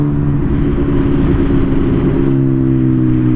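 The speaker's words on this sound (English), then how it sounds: "I love how these motorcycles sound." Motorcycle engines running in commuter traffic, a loud, steady low rumble with sustained throaty tones and a slight shift in pitch partway through, close by and continuous.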